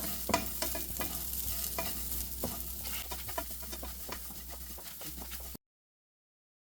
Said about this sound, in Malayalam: എണ്ണയൊന്നും ചേർക്കാതെ തന്നെയാണ് നമുക്കിത് വറുത്തെടുക്കേണ്ടത്